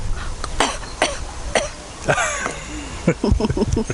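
A few sharp, close coughs in quick succession, followed by a voice starting to talk.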